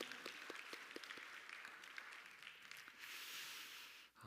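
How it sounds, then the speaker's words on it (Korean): A church congregation applauds, a soft, diffuse wash of clapping from a distant room with a few sharper claps early on, fading out near the end. "우리 하나님 큰 박수로 우리 한번 감사의 박수 올려드리면 좋겠습니다"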